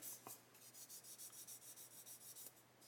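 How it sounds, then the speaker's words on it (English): A sanding stick rubs back and forth on a plastic body shell of an Italeri 1/12 Stratos model car in a steady rhythmic rasp of about a dozen short strokes, close and fairly quiet, with no voices. "I've got my thumb here as a guard so that I don't sand away this raised detail here"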